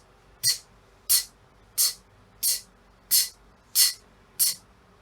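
A voice imitates a hi-hat landing on the upbeat with seven breathy, hissing 'tss' bursts at a steady, even pace, fairly quiet and close, with no drums behind them.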